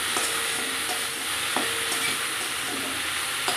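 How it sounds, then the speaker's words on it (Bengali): Okra frying in a pan as it is stirred, a steady close sizzle with a few scraping knocks from the spatula against the pan, no talking. "ঢাকাটা খুলে নেড়ে দেবো।"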